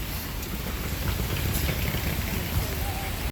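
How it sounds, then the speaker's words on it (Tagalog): Steady, heavy rain in Macau hissing down across the whole stretch, dense and continuous with a low rumble beneath it. "Medyo malakas yung ulan ha"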